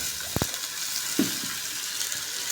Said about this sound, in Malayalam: അരിഞ്ഞ് വെച്ച തക്കാളി ഉള്ളി പച്ചമുളക് ഇതെല്ലാം കൂടെ നമ്മൾ ഒന്നിച്ചിട്ടിട്ട് വഴറ്റാൻ പോവുകയാണ്